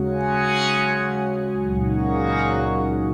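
Sustained Korg synthesizer tones run through an Erica Synths Nightverb, washed in dark, long-tailed reverb with slow high-frequency decay, swelling tonal layers and a smooth, echoing decay.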